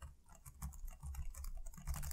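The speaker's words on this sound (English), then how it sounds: "As you can hear, super quiet and subtle, really softly dampened keyboard that makes typing just a really big enjoyment" Soft, muted keystrokes on the quiet, well-dampened keyboard of a Dell Latitude 14 7000 (E7470) laptop, a quick irregular patter of light clicks, close and faint with no talking.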